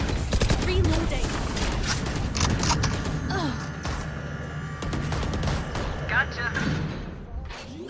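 Valorant gunfire during a competitive pro match crackles as rapid bursts and single shots under excited commentary, mixed with game effects and crowd-like noise.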